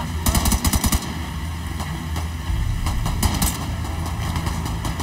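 Rapid bursts of SMG fire in the video game Tom Clancy's The Division 2, a tight cluster of quick shots up front and then scattered further shots over steady combat background noise.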